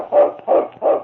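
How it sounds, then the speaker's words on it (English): A lead sled dog barks three times in a steady rhythm, each bark loud and close, set in an old radio drama about the Northwest. "It's Yukon King, swiftest and strongest lead dog of the Northwest"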